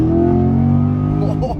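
A 2026 Chevrolet Corvette engine accelerates with a loud, close, steady harmonic drone whose pitch eases slightly before trailing off at the end.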